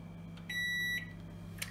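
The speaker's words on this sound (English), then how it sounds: "hold it down until the microwave beeps" A Sharp R-372M microwave oven gives one clear, steady electronic beep lasting about half a second in a quiet room, with a faint low hum underneath.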